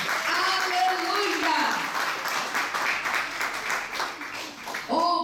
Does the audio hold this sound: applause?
yes